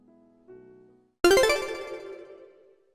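A phone rings at an emergency moment, with a soft tone at first, a pause, then a loud bright ringtone that rings out and slowly fades.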